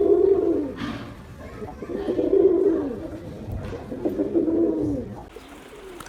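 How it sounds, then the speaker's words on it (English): A common pigeon coos in a series of soft, low, rounded calls, several repeated phrases rising and falling close by with little else around. "The common pigeon."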